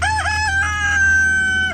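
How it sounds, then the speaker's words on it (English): A rooster crows in a long, loud, sustained call with harmonic overtones, close by throughout, during a scuffle with a boy. "Here is an epic battle between a boy and a rooster."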